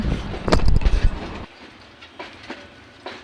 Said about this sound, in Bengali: কুড়িগ্রাম এক্সপ্রেস ট্রেনটি নাটের স্টেশন থেকে তার নেক্সট স্টেশনের জন্য গন্তব্য শুরু করছে